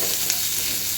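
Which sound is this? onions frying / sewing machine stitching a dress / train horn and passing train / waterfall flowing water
onions frying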